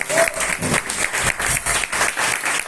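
Rhythmic applause in a church service, hands clapping in a regular pulsing beat with people's voices faintly mixed in.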